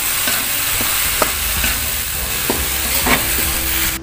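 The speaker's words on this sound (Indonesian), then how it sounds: "Kemudian kita masukkan kelapa parutnya. Kita masak untinya sampai merata." Grated coconut and sugar filling for dadar gulung cooking in a pan, a loud bubbling sizzle with repeated scraping strokes of a spatula, close and steady, with no voices.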